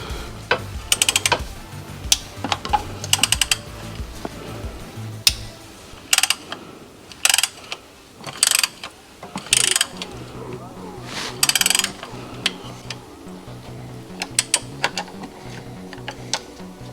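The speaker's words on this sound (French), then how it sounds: "Là, on va pouvoir resserrer son filtre maintenant" Tightening the oil filter on a Renault EDC6 dual-clutch gearbox brings repeated bursts of ratchet clicking, close and mechanical, with short pauses between runs and a faint voice speaking in the background.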